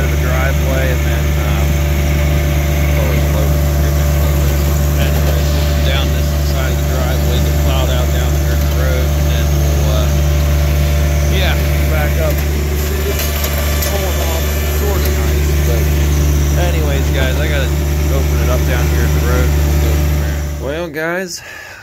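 A John Deere 1025R compact tractor idles steadily on a cold start in winter, a constant close engine drone with a low hum that holds for about twenty seconds before cutting off at the end.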